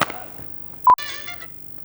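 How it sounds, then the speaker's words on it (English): A short, loud electronic beep cuts in once, then a bright, warbling ringtone melody plays on its own. "That's not my ringtone."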